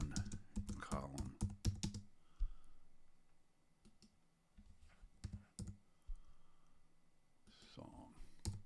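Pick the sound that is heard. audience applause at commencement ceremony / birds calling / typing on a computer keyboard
typing on a computer keyboard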